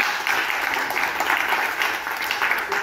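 Congregation applauding during a church sermon, a steady dense wash of clapping that holds for the whole stretch without a break, with no voices standing out over it.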